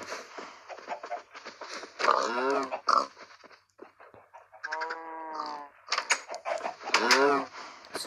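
Pig grunting and oinking in Minecraft, several short snorts and squeals scattered across the clip, close and fairly loud amid other farm-animal sounds.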